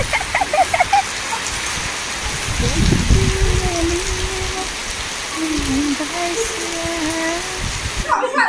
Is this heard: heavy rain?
yes